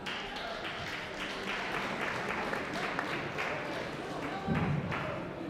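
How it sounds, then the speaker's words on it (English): A conference audience at a tech event applauds a guest speaker, steady dense clapping from a crowd in a hall, sustained throughout with a few louder thumps near the end. "Give an amazing applause to Espree Devora"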